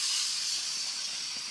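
Water poured into a hot pan of cauliflower sets off a loud, steady, steam-laden hiss that fills the whole stretch and fades only slightly toward the end.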